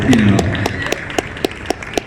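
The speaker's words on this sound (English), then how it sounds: "Another round of applause for the folks from Guard Dog and their hard work" Applause from an audience on a home-technology expo floor: a dense wash of clapping that thins into scattered, separate claps, moderately near and fading toward the end.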